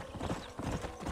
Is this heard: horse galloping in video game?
yes